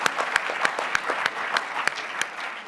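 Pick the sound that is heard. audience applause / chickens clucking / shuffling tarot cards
audience applause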